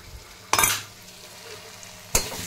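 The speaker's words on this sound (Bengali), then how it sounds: "আমার এটা কষা হয়ে গেছে" Spice paste sautéing in a pan, with two short bursts of stirring and sizzling, the first longer and louder, separated by a quiet stretch with only a faint background hiss.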